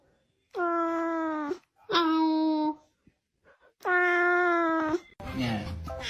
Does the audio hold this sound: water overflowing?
no